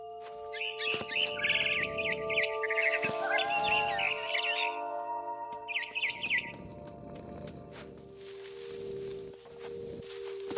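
A frightened barn swallow chirps in the video game What Remains of Edith Finch, rapid bursts of high tweets in two clusters over soft rustling and ambient game sound.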